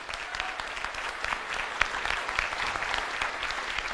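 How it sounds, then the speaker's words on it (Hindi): A crowd at a motivational seminar claps loudly for the upline leaders, a dense, even burst of applause sustained from start to finish with no talk over it. "मैं चाहूंगा एक बार हमारे सभी ग्रेट अपलाइन के लिए एक बार जोरदार ताली"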